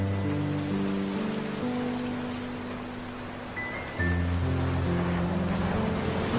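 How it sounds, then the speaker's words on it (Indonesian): Ocean waves roll onto a beach at Jembatan Panjang in South Malang, a steady, broad wash of surf that swells and recedes, with a low engine-like drone running beneath it. "Deburan ombaknya teramat indah."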